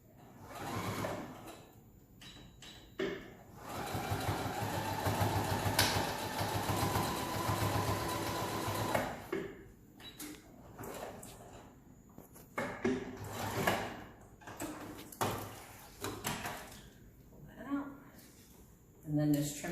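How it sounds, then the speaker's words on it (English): Home sewing machine stitching a fabric face mask, running over pins, with bursts of motor whir and needle chatter between pauses, plus handling noises and someone talking. "seamstresses at home, I am sewing over my pins"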